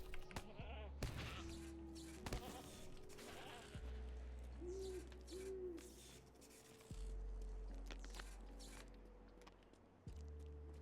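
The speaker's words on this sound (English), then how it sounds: "How many more goats do I need?" Goats and rams in The Lord of the Rings Online bleat several times, including a pair of short wavering cries midway, set against a steady game soundscape with intermittent clicks and thumps; quiet overall.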